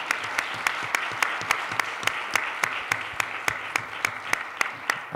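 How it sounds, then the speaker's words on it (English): Applause at a data science summit panel, with one set of distinct, evenly spaced claps standing out over a softer background of audience clapping, moderately loud and steady. "Yeah, applause"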